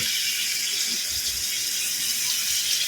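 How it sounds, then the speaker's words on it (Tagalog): Water pours in a steady hissing stream, close up and continuous, like liquid running into a cooking pan. "Lagyan natin ng konting tubig guys"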